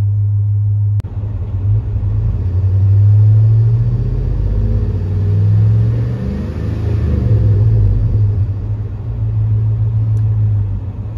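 A Chevrolet Tahoe engine idles after an oil change while it warms up, a steady close low rumble with slight swells in loudness and one sharp click near the start.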